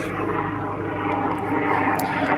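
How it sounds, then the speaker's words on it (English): A helicopter flies overhead beside a canal in New Jersey, its steady engine and rotor drone loud and continuous throughout, with no talking. "Helicopter. Go away with your noise."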